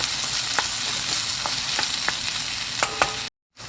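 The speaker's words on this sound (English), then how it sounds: "Let that fry and mix it up. Let it fry in medium high." Devilled shrimp and onion sizzle in a pan over medium-high heat. The frying is steady and close, with scraping stirs marking a loose rhythm, then a brief cutout.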